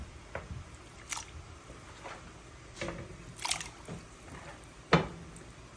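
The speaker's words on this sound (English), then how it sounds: "And next I'll add the chicken feet." Raw chicken feet dropped one after another into a pot of water with garlic, giving soft wet squishes and splashes at irregular intervals, with one sharper plop near the end, close and quiet.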